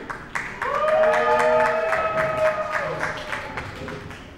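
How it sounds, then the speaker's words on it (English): Audience applause rises for two actors arriving on stage at a church lesson event, broad steady clapping swelling early then thinning, with a sustained tonal music or voice layer running beneath. "Please give a quick round of applause to the amazing Mr. Vern and Mr."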